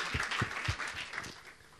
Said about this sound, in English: just a round of applause for Agnes and Guna.